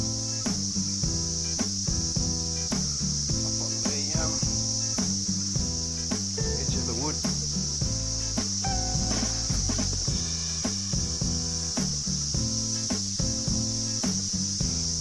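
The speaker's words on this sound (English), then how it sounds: "Cicadas everywhere." Steady high-pitched buzzing of cicadas at a campsite fills the whole clip, loud and continuous, with someone talking briefly underneath.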